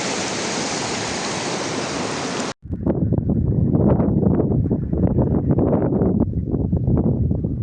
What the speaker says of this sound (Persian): بعد از گذشت از این رودخانه